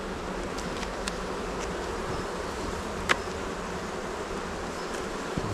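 A close, constant hum of honeybees swarms over a hive under inspection, the steady buzz broken only by a faint click or two.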